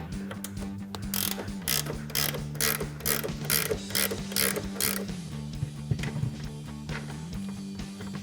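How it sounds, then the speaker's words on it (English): Ratcheting wrench clicking in quick bursts as it loosens 18mm coilover top nuts on a 2014-2018 Silverado/Sierra 1500 front shock, close and crisp over a steady low hum. "You're gonna need your 18mm wrench. I recommend a ratcheting wrench to make life a little bit easier."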